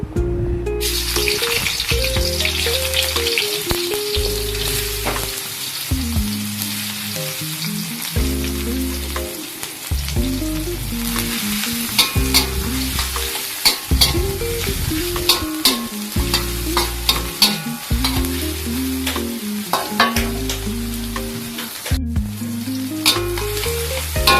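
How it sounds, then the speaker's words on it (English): Garlic, shallot and ginger stir-frying in a hot pan, loud and close, with continuous sizzling and repeated rhythmic scraping of a spatula against the pan. "Stir fry the garlic, shallot and the ginger."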